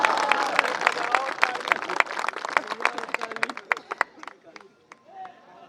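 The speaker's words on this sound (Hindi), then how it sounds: "ताली बजाइए, एनर्जी मिलती है।" An audience at a Hindi comic poetry gathering claps in a dense, loud burst of applause that slowly thins out and fades toward the end.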